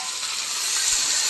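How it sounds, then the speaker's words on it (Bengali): Spices hissing in hot oil as dried chili is tempered with salt and turmeric, a steady close sizzle with no talking. "শুকনো লঙ্কা ফোড়ন দিয়ে"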